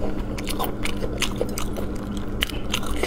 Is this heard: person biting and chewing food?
yes